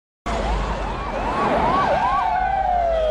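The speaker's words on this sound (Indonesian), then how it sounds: "setelah mendengar suara sirine" A loud siren wails close by, its pitch swooping up and down in quick repeated cycles, then holding a steady high tone.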